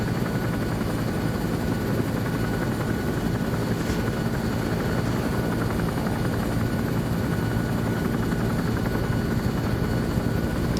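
A helicopter in a Vietnam War multiplayer video game, its rotor thudding steadily and loudly throughout without talk.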